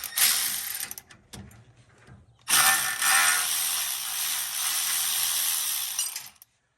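A ratchet wrench loosens a half-inch bolt on a StableLoad lower quick-disconnect bracket with bursts of rapid clicking, a short pause, then a longer steady ratcheting run, close up and alone.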